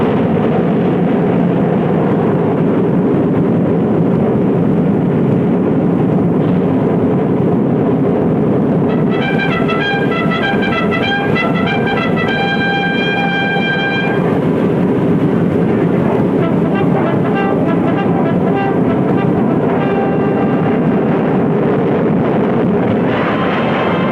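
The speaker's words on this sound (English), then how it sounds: "This 100-ton giant is airborne." A large vintage flying wing aircraft takes off, a loud sustained roar of engines and rushing air, with whining tonal bursts joining partway through as it climbs, no voices.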